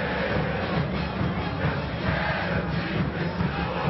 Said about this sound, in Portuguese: a torcida do Corinthians canta, não para, não para, não para